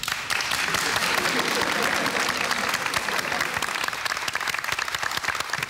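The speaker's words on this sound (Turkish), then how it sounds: "Kocaman alkışlar." Loud, dense audience applause from a studio crowd fills the whole stretch with continuous clapping, steady and close, with voices mixed underneath.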